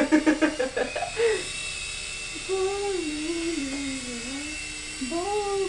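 A radio-controlled helicopter's rotor whirs with a steady pitch that rises and dips as it is flown, following some brief voices at the start.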